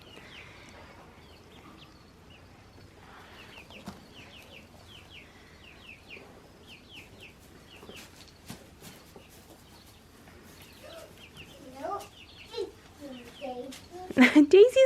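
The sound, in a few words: chickens clucking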